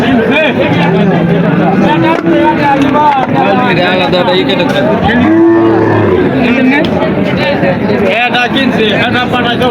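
Cattle low and moo repeatedly at a busy livestock market (Aricha animal haat, first market after Eid), with long loud calls rising over constant crowd chatter and nearby voices.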